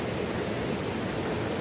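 Steady broadband rush of a river flowing beside a riverside campsite at the foot of Mount Gede, continuous and close with no voices.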